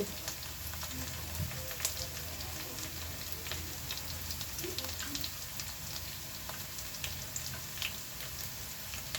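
Onions fry in hot oil in a home kitchen for an okra dish, giving a soft, steady sizzle with faint crackles and occasional small clinks, fairly quiet throughout.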